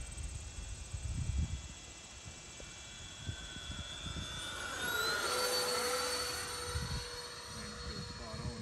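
A Freewing A-10 Thunderbolt II scale RC jet with twin 80mm ducted fans flies overhead, a whining turbine-like whoosh that swells and sweeps in pitch as it passes, with wind buffeting and brief voices.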